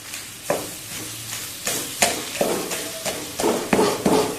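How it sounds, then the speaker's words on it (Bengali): Broken pieces of fried hilsa fish drop into a hot pan and sizzle, with a series of sharp clattering stirs and scrapes recurring every half second or so over a steady frying hiss. "এবার আমি এই ইলিশ মাছের ভাজাটা দিয়ে দেবো একটু ভেঙে ভেঙে দেবো"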